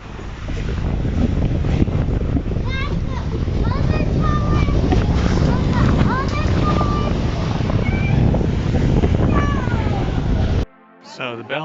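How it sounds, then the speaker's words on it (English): Strong wind batters the top of the Belfort tower, a loud, rumbling roar of buffeting gusts that fills the scene, with voice-like sounds mixed in before it cuts off abruptly near the end. "It is so windy up here."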